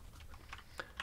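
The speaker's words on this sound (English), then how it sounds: "You can hear a cat jumping on the keyboard in the background." A cat landing on and stepping across a computer keyboard in the background, a few faint, scattered key clicks over a low room rumble, with no voices.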